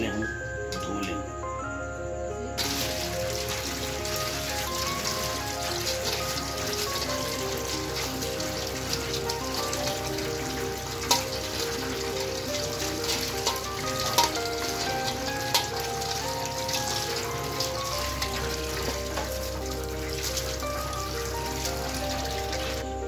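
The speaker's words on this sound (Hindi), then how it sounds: "ये पाव हरी मिर्च ली, इसको सबसे पहले हम धो लेंगे" Green chillies are washed in water, a steady splashing and dribbling rinse that continues evenly at close range under light background music, with no voices.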